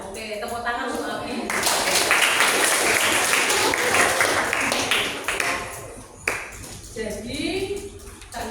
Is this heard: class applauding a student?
yes